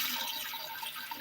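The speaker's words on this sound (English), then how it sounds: "I'm giving it water from the bottom" Water being poured into a bowl or tray to bottom-water a potted jade plant during replanting, a soft, steady liquid trickle and splash heard up close, continuous and fairly quiet, with no talking.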